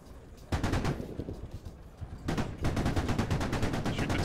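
Enemy gunfire in the military shooter game Squad, rapid automatic bursts in two loud stretches, the second sustained and dense, close and dominant with no talk over it.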